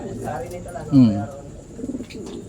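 Pigeons coo in crates nearby in low, throaty bursts, one louder coo standing out, with soft rustling and faint voices behind.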